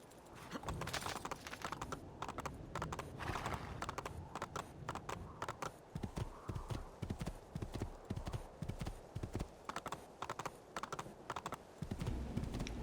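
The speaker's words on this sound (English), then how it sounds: "Let's ruin the field crops with the horse's hooves." Horse hooves trample through field crops in Assassin's Creed II, a fast, steady clip-clop of game footfalls running close and loud for the whole stretch, with a brief whinny-like sound mixed in.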